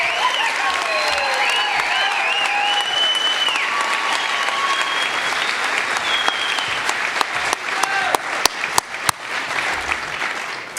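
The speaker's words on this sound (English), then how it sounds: "let's go ahead and give everybody a round of applause" A crowd applauds Spring 2024 nursing graduates at a pinning ceremony, with steady dense clapping and a few whistles and cheers early on, then sharper individual claps standing out near the end.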